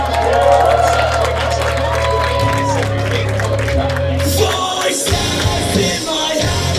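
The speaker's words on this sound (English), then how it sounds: "CJ Rawlings in amongst it with the crowd, who seemed far more receptive to him than they did to the Hotshot." Crowd noise at a wrestling match, the 'Hotshot' Joey Scott vs 'Unpredictable' CJ Rawlings bout, with a steady roar of fans cheering and yelling throughout as the wrestler mixes among them.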